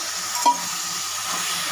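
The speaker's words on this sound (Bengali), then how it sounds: "এবার আমি একটু জল দিয়ে দেবো" Water splashed into a hot pan of frying spices, ground cumin, coriander and fennel, for a stuffed pointed gourd and prawn dish, giving a brief soft hiss over a steady low sizzle, close up with no voices.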